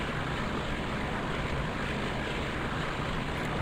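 A PRR Alco RS11 diesel locomotive in a train simulator game shunting up to about 15 miles an hour, its engine a steady, dense drone with a broad rumble that holds at an even level throughout, no voices over it.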